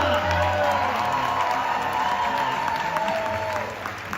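Audience applause with some cheering and whoops for the executive chef at a captain's welcome event aboard the Carnival Celebration cruise ship, a steady, dense crowd clapping that holds throughout and eases slightly at the end.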